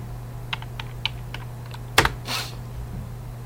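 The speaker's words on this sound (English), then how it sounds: "I typed that wrong, Mr. Dueck." A computer keyboard is tapped in a few soft keystrokes, then a louder cluster of clacks, close up over a steady low hum, with no one talking.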